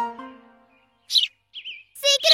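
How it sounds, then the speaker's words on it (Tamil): Cartoon birds give a few short high chirps and a wavering whistle, heard alone after a brief voice at the start. "பறவை"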